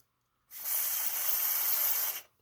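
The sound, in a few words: spraying contact cleaner into old vacuum switch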